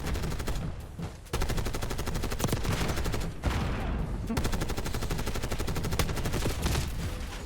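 Sustained automatic fire from an XMG machine gun in Black Ops 6 in a Hardpoint match, rapid, loud, near bursts running almost continuously with a brief pause between strings, plus faint game sound effects.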